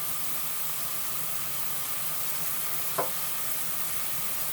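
Collard greens sizzle steadily in a frying pan, a constant hissing fry with one brief clink of stirring partway through.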